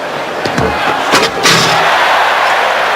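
A 1980s NBA Slam Dunk Contest arena crowd bursts into a loud, sustained roar after a thudding slam, the cheering swelling and holding steady to the end.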